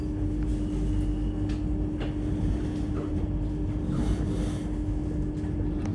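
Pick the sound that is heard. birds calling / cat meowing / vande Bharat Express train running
vande Bharat Express train running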